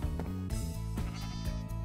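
Sheep in the video game Minecraft bleat loudly several times in quick succession, the wavering calls overlapping with no talk over them.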